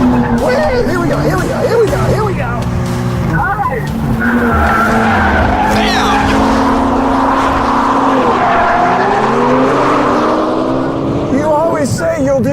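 A BMW M2 F87 slides sideways in a drift, its engine revving hard and tires squealing in long wavering streaks, loud and close, with people talking and exclaiming over it throughout.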